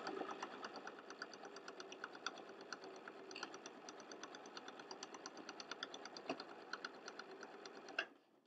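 A sewing machine stitches binding onto a mini quilt at a 2.6 mm stitch length, running in a steady, fast, even mechanical patter for about eight seconds before stopping abruptly.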